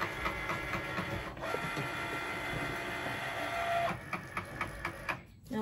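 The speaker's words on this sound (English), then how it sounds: "now I'm going to print both at the same time." A printer runs steadily while producing memorial lantern designs, its mechanical whirring continuous for about four seconds before breaking into a series of rhythmic clicks and short feed pulses near the end.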